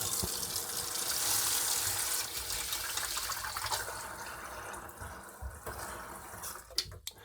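Warm tap water runs steadily for cleaning a camping pan, a continuous close hiss of flowing water that thins out and ends with a few drips and clinks.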